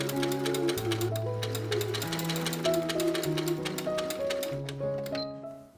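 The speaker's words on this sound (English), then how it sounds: "So I'm just sewing it straight stitch along the edge." A sewing machine runs a straight stitch along a fabric edge, a rapid ticking needle rhythm with a short pause, heard under background music.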